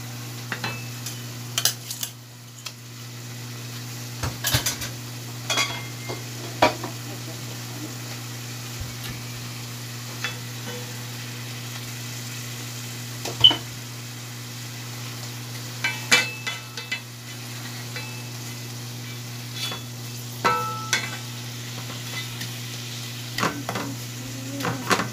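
Rupchanda pomfret fish fry in a pan with a soft, steady sizzle, while a utensil scrapes and clinks against the pan in irregular bursts.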